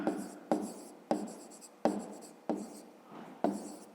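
Pen or chalk writing out a maths exercise for a fifth-grade lesson, six distinct scratchy strokes in a steady rhythm, each starting sharply and trailing off, close and clear with no talk.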